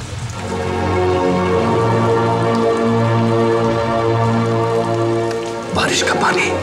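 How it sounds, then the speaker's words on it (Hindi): Steady rain pours down, a dense continuous hiss with a low rumbling undertone, and a brief burst of sharper splashing near the end. "बारिश का पानी"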